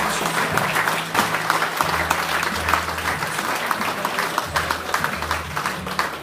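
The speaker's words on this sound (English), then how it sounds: "how about a big round of applause for Lauren and her father Tom" Guests at a dinner toast give a round of applause, steady continuous clapping over a low room murmur, moderately loud and sustained for several seconds.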